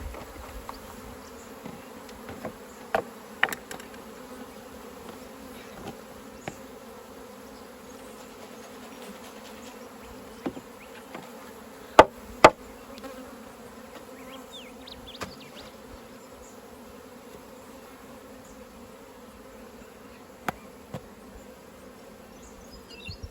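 Honey bees humming steadily around an open hive during a final hive check of the year, a continuous low drone with occasional sharp clicks and knocks from handling equipment.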